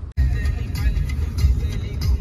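Car interior while driving, a steady low engine and road rumble that starts just after a brief drop, with a voice talking over it.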